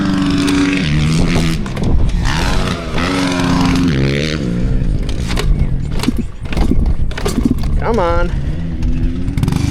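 A 125 cc dirt bike engine runs close by, revving up and down in rough bursts with rising pitch sweeps. Someone speaks briefly over it.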